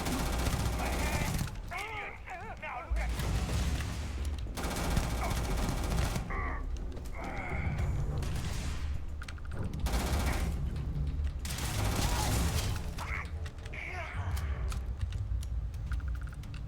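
Bursts of rapid gunfire in Starfield, loud automatic volleys broken by short pauses across a combat exchange, with a voice talking over parts of it.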